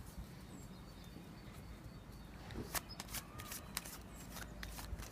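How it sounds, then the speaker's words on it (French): A normal deck of playing cards is shuffled by hand in a quiet room, a few quick riffling bursts of papery flutter after a soft, near-silent start. "À présent, je vais mélanger le jeu."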